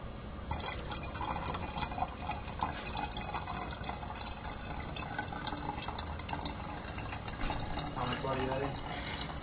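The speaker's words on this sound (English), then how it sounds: "Let's add the water next." Water is poured steadily into a bottle, a continuous splashing and trickling fill lasting several seconds, close and fairly loud, with a voice talking over it.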